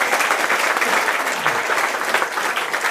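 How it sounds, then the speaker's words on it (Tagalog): A church congregation applauds after a sermon, a steady, dense clapping that fills the room throughout, with no voices above it. "Palakpak sa Ginoo."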